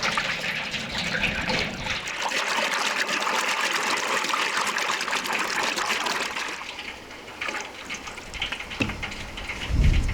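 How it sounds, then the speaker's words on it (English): Hot oil ladled over a giant KFC-style battered beef leg in a big pan on the stove, giving a steady, loud sizzling and crackling hiss that continues throughout. "I ladle hot oil over the top, creating a stunning, crispy coating."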